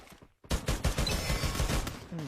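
Rapid bursts of gunfire from a Free Fire mobile match crackle loudly after a brief silent gap, dense repeated shots running on without pause; no talk is heard over them.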